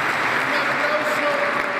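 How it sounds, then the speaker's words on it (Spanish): A crowd at a patronal feast mass applauds Father Néstor, a dense, even wash of clapping that holds steady throughout. "Un aplauso bien grande, bien fuerte al padre Néstor"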